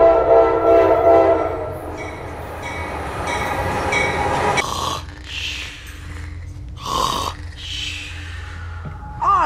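A train rolls past close by, its wheels and cars rumbling loudly throughout, with a horn blaring in sustained blasts and squealing wheels toward the end.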